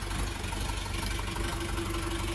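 A Dongfeng 404 G2 tractor engine runs at a steady idle, a close, even diesel throb with a faint whine over it and no talk.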